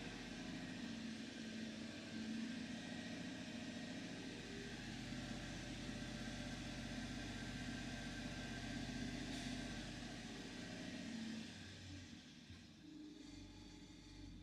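A car engine with P0171/P0174 lean codes and newly fitted exhaust manifolds drones steadily and loudly at raised RPM, then eases slightly lower near the end; no talking.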